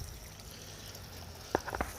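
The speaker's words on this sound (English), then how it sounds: "it's a submersible pump with a little variable control valve on it so that I can adjust how much water flow I have" Water runs from a large submersible pump fitted with a small variable control valve while paydirt is washed. The flow is a faint, steady trickle, with a few sharp splashes and knocks near the end.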